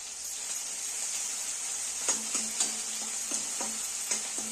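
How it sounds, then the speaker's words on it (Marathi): Curry leaves go into hot oil for a misal pav base, producing a steady close hiss and sizzle. A spoon scrapes and taps against the pan in a rhythmic series of knocks. "आता हे कढीपत्ता टाकूया"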